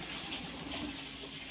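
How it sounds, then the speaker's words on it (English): Tap water runs steadily over vegetables being washed in a kitchen sink, a close, dense, unbroken rushing hiss for the whole moment, with no talking. "Okay, so I'm going to wash these."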